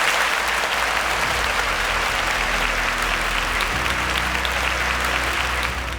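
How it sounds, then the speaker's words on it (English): Studio audience applauding at a televised quiz show, a steady, dense round of clapping that holds evenly for several seconds without a break. "A round of applause."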